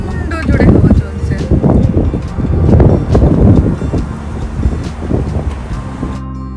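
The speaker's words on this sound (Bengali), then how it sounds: "আর ভীষণ হাওয়া চলছে, বৃষ্টি হবে মনে হচ্ছে।" Heavy wind pounds the mic outdoors as clouds gather before rain, loud continuous low roaring in surges, with someone speaking throughout.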